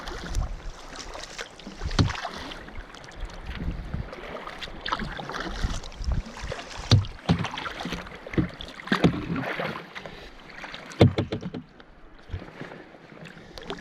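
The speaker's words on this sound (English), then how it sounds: "We can paddle again for a wee while." A canoe paddles across a loch on Rannoch Moor, with uneven paddle strokes, water splashes and drips close by, plus some wind on the mic.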